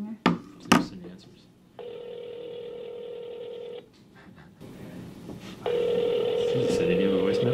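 A telephone being dialed gives short tones and a steady dial-tone-like hum, with voices and handling noises around them.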